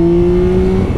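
A Yamaha 1000cc motorcycle engine revs hard on a race track, its loud steady high-pitched drone holding close for about a second, then easing slightly.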